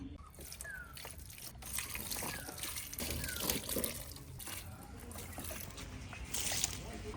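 Water trickles and splashes as potted plants, including a petunia, are watered on a rooftop, a steady nearby pouring with soft spatters throughout.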